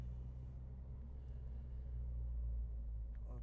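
A Honda Civic Type R (EP3) drives through town while shifting down, its engine a steady, low, muffled rumble heard from inside the cabin, lifting slightly near the end.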